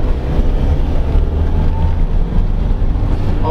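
Modified Ford Transit 2.2 van driving under load, its engine pulling with a steady low drone and rumble, close and loud, with no talk.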